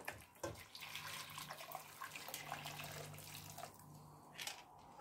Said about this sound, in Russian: Дальше эту кожицу наливаем водой.